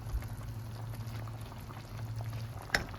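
Bora sizzling and bubbling steadily in hot oil with a little water and garam masala, a soft continuous frying hiss with a low hum beneath and one brief clatter near the end.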